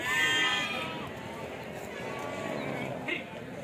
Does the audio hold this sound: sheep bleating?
yes